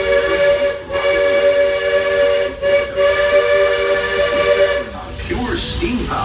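The steam locomotive Roy O. Disney on the Walt Disney World Railroad sounds a long, loud, multi-tone whistle at night, broken by short gaps, with hissing steam beneath and a voice toward the end.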